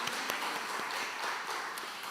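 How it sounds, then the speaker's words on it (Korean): A church congregation gives a sustained round of applause, a dense, steady clapping with occasional sharper individual claps standing out close by. "주님의 이름으로 함께 모일 수 있도록 허락하신 우리 하나님께 박수로 영광을 돌리기를 소망합니다."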